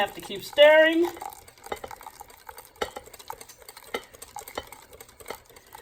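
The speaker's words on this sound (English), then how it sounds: "Have to keep stirring" Egg custard mixture being stirred in a pot, soft scraping and clinking strokes repeating irregularly at close range after a brief burst of voice at the start.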